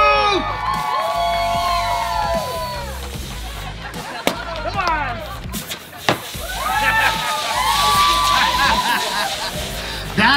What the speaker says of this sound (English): Let's give it up for the Householder crew!